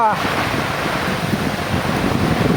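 Heavy rain pours steadily while wind roars through a farm orchard, forming a dense, continuous wash of noise that stays loud throughout.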